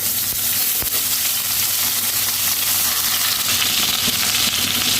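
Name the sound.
eggplant frying in oil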